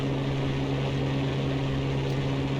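A Spitfire's piston engine idles at low throttle in the X-Plane 11 flight simulator, a steady droning hum with a strong low tonal buzz, constant and close throughout with no voices.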